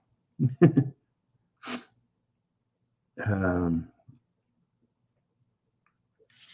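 Quiet room with a few sneezes: a quick double sneeze, a short sniff, then a longer voiced sneeze, each separated by silence.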